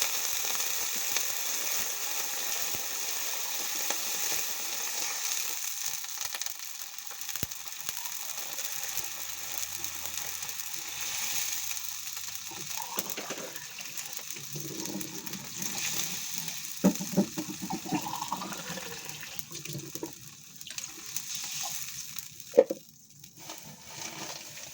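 Sardines being sautéed with glass noodles in a pan, giving a steady, close sizzle and frying hiss throughout, with some clattering and stirring toward the end and no talking.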